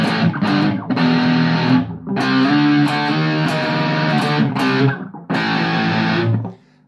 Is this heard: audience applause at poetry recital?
no